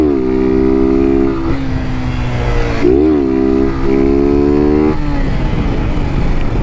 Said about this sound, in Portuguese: Ó, sem embreagem. Ó como que a moto vem